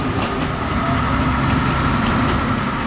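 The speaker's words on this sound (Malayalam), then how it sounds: "ഇത്തരം 10ഓളം ബോഗികളുണ്ട് ഈ ട്രെയിനിന്." Train running on rails beside the Urubamba River in Peru, a steady continuous rumble with constant mechanical noise throughout, close and fairly loud, no voices.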